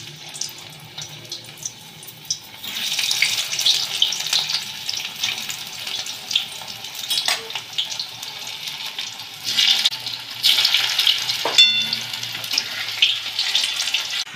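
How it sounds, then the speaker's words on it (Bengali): Potato pieces deep-fry in hot oil with a continuous bubbling hiss that swells and eases, plus a few faint clicks from the pan and no voices. "এবার আমি আলুটা ভেজে নেব লাল লাল করে।"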